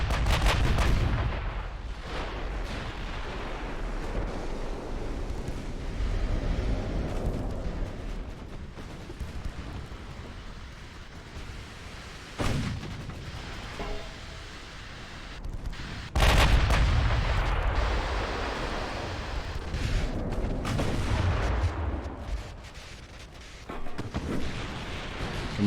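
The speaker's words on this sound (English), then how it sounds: "That was a 9-inch gun that time from my cruiser." Heavy naval 9-inch guns fire from a cruiser in a warship battle in Ultimate Admiral Dreadnoughts, several deep booming blasts spaced across a long stretch of rumbling battle noise, with one especially loud salvo midway.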